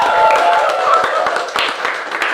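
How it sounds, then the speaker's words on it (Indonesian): A student audience applauds two guest stars with close, loud scattered clapping. The individual claps are sharp and distinct, and a little talk can be heard underneath. "Tepuk tangan dulu, aplaus dulu."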